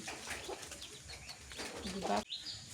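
Chickens on a small poultry-rearing homestead, heard as soft, scattered clucks and short calls with some rustling, close by and fairly quiet.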